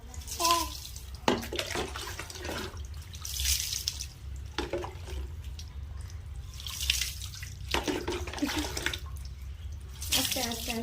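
Water poured over a child during a bath at home, splashing and trickling in intermittent bursts under a voice and someone talking, close and moderately quiet.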